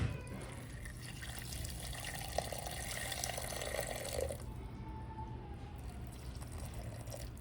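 Water pours into a pot for chicken noodle soup, a continuous splashing stream that stops partway, leaving a quieter background.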